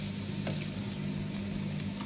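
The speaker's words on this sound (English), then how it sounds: "So this is 120 grams of basmati that's been rinsed." Rinsed basmati rice tipped into a pan of frying vegetables for jambalaya in a Ninja Foodi, giving a steady close sizzle with a soft rustling patter as the grains land.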